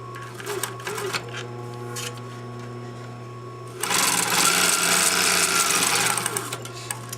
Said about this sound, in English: now I go back to a normal stitch and sew the sleeve underarm seam